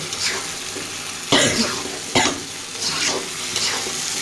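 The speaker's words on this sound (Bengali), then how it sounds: "এবার এখন আমি কচুটা কষিয়ে দিব" Taro (kochu) sautéed with spices in a pan gives a close sizzling hiss broken by sharp scraping stirs of a spatula against the pan, several distinct strokes over steady frying.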